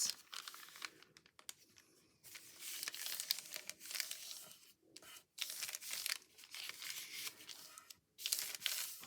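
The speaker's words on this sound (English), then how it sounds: "I know I want to use this bag. So let's go ahead and fold this." Crinkly plastic party bag being folded by hand, with bursts of sharp crumpling and tearing-like rustle broken by brief pauses, close and fairly quiet.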